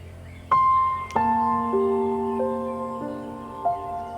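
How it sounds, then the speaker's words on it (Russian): Birds singing outdoors on a hike from Golden Sands to Aladzha Monastery in Bulgaria: a few clear whistled notes at shifting pitches, fairly close against a quiet background, with no talking. "Слышите, как птички поют?"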